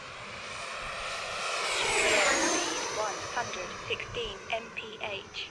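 An E-Flite Viper 90mm electric ducted-fan RC jet at full throttle, a loud rising whoosh that peaks as it passes close and then fades with a falling whine, while someone speaks over it.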